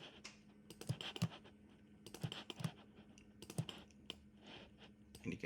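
Quiet, close computer keyboard typing and mouse clicking while working in Plasticity 3D modeling software, with irregular bursts of key and click taps over a soft background hum.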